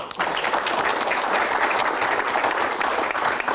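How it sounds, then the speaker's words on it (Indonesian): Steady applause from an audience at an Indonesian Q&A event, dense clapping sustained at an even level throughout without any talk over it. "Tepuk tangan"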